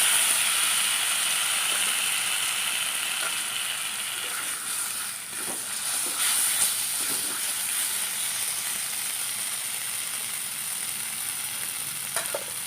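Prepared brinjal for a brinjal-and-egg dish hitting a hot pan, a loud continuous sizzle with crackling frying and occasional stirring scrapes, close up and without talk.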